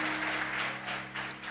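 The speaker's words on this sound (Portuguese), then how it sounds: "Aplauda o Senhor e a sua palavra." A church congregation claps for the Lord during a Portuguese-language worship service, a dense, steady wash of applause with a faint musical hum beneath, lasting only a moment.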